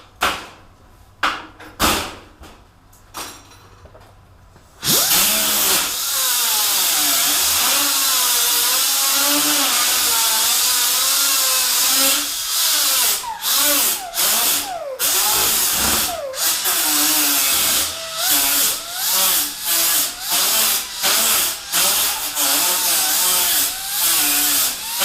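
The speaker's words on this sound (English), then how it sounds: "Since I already got the grinder out, I'll just grind it." After a few seconds of clamping clatter, an angle grinder grinds the corner of a painted panel with a loud, continuous high whine that dips and surges briefly as the disc bites, close up and with no talking.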